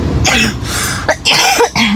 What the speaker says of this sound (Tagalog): ang tigas yung ubo ko, tapos ang sakit dito sa lalamunan ko